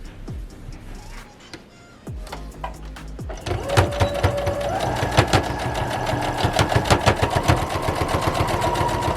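A sewing machine stitching a fabric face mask, starting with slow, separate needle thumps that speed into a steady rapid mechanical chatter with a motor whine, close and loud.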